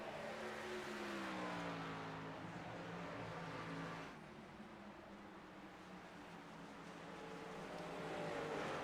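Race trucks in the Frontier Truck Tour lap Rockingham through turns 3 and 4, their engines droning loudly and steadily before fading slightly as they pass, then swelling again.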